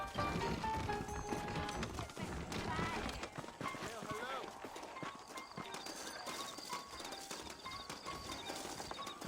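Saddled horses clip-clop in steady hoofbeats in the Red Dead Redemption game, with an occasional whinny, while voices talk over the top and game sounds play around them.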